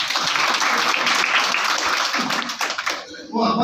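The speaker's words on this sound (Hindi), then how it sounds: "उनके लिए जरा जोरदार ताली हो जाए।" A crowd at a gathering about a government official bursts into loud, dense applause that carries on for several seconds before thinning out near the end.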